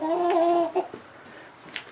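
Partridge Chantecler chicks make a short, close clucking call that fades quickly into faint background sounds.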